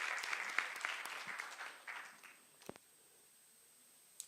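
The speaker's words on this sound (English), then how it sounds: "Let's give our panelists a round of applause." A crowd applauds panelists at a film expo, clapping fading out after a couple of seconds, leaving near silence with a faint high tone and a stray thump.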